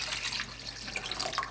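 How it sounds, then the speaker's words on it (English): Two quarts of filtered water poured into a soup pot for minestrone, a steady close splashing and trickling stream with no one speaking over it. "And then I'm going to add the water, and that's 2 quarts of filtered water."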